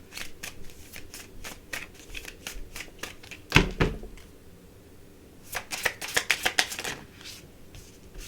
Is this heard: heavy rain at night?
no